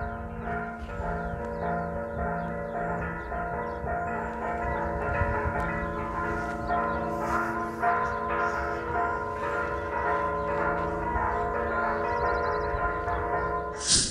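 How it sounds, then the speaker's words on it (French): Church bells ring loudly and steadily for the whole stretch at the Sanctuary of the Virgin of Remedies in Cholula, Mexico, with sharp firecracker and firework pops cutting in now and then. "je ne sais pas si vous m'entendez avec les sons de cloche et les pétards et les feux d'artifice"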